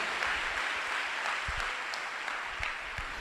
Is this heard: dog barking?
no